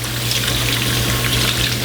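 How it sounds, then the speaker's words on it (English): Cold water runs steadily over a hot pressure cooker to cool it, a continuous rushing, splashing flow that stays close and even, with no talking. "So you cool it down by bathing it in cold water."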